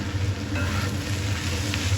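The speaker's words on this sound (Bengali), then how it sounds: "যেহেতু লোহার কড়াই অনেকক্ষণ ধরে গরম থাকে তো তাই একটু নেড়ে চেড়ে দিচ্ছি" Snake gourd with coconut is stirred in a hot iron wok, making a steady close sizzle with light scraping and shuffling of the spatula and no talking.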